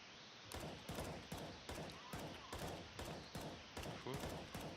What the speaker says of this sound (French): je tire au hasard